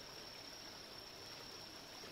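Stream water flows steadily in the video game The Vale: Shadow of the Crown, a soft, even rushing wash with a faint high hiss that stays constant throughout, with no voices.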